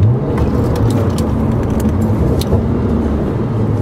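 Porsche 997 Mk1 with a sport exhaust, valves open, rumbling through a tunnel: a deep, loud, reverberant engine drone held steadily for a few seconds, close and without speech.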